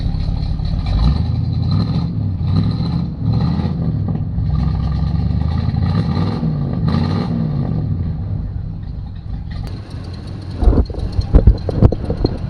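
A hearse engine idles very low with leaking valve cover gaskets, giving a loud, steady, rough rumble throughout, followed near the end by a few sharp clicks and knocks.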